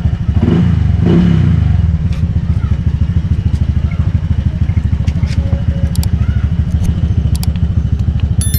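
A Honda Click 125/150/160 scooter engine runs at idle close by with a steady, rapid low putter, briefly louder near the start, with faint clicks and ticks on top.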